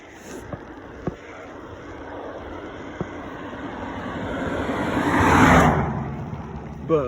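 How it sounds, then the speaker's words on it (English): A car passing on a normally busy road, its rumble swelling gradually to a peak and then fading, with a few faint clicks early on. "Cars go speeding by through here all the time."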